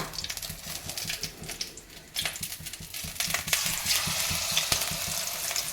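Battered pabda fish frying in a little oil, a steady close sizzle and crackle with occasional stirring clatter that grows denser and louder partway through.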